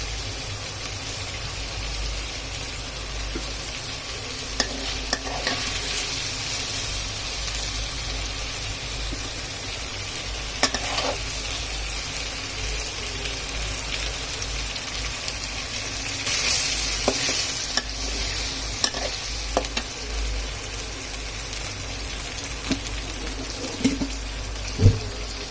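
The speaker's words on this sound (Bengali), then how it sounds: "খুব লোভনীয় খাবার ভাজা মাংস।" Meat frying in oil in a pan, a steady loud sizzle running throughout with the scrape and clatter of stirring breaking through at intervals, no voices.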